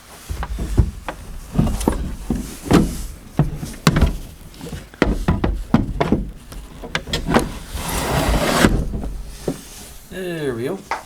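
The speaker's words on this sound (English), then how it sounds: "Let's try to get the trolling motor on." Irregular knocks, thunks and clanks ring out as a trolling motor is fitted onto its bracket on an old fishing boat under restoration, with people talking throughout.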